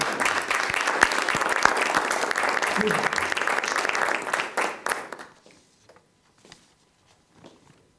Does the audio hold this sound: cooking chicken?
no